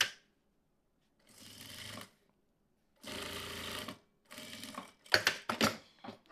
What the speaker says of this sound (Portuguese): vou colocar o meu calcador de zíper aqui na minha máquina. Então, direito com direito, dentinho para baixo e vou costurar aqui.